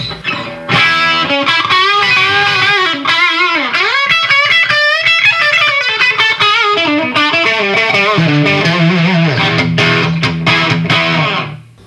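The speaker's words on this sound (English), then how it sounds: "So this one happens when I kick on the Tube Screamer." Electric guitar through a Tube Screamer overdrive pedal into a Marshall JVM210 amp, with a warm, mildly gritty tone as notes and bends ring out loudly over several seconds.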